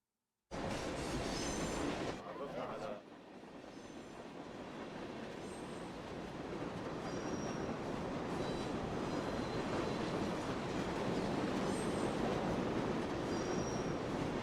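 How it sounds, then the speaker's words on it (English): A video-game train rolling past on the rails, a steady loud rumble with wheel squeal and rhythmic clatter that starts abruptly and carries on for the whole stretch, rising slightly in intensity. "Kanan and Sadaka slithered silently along the other side of the train, suspended just above the ties hurtling past beneath them."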